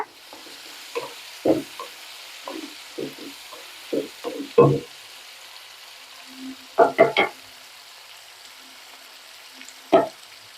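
Chutney ingredients being stirred in a pan for an idli and dosa side dish: scattered scraping and stirring strokes against the pan over a low frying hiss, with a few louder clusters of clatter.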